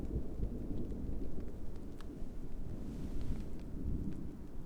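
Low rolling thunder rumbles through a winter thunderstorm at a campsite, steady and continuous with rain patter and faint ticks over it.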